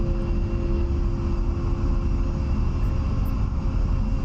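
An A-10A jet taxiing in DCS gives a steady, even engine whine and rumble, moderately loud and unbroken, with no voices over it.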